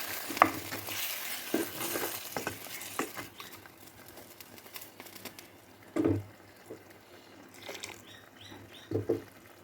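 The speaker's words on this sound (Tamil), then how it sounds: "குழம்பு கொதிக்க வச்சுருக்கலாம்" Quiet bubbling and sizzling from a pot of mushroom curry simmering in water, with scattered scraping stir sounds and a few louder clanks of a utensil against metal.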